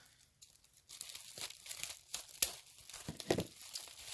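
Plastic silver ribbon tape on a roll being cut, a few sharp crinkling, tearing snips and rustles spread unevenly over the clip, close and fairly quiet with no talking.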